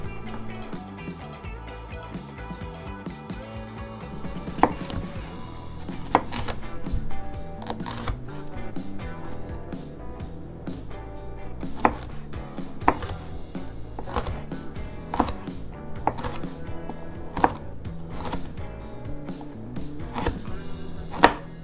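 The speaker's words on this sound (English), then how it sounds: "Now we're just gonna finish chopping" A knife chops vegetables such as bell pepper steadily on a cutting board, sharp irregular knocks over a busy background, with a person talking along the way.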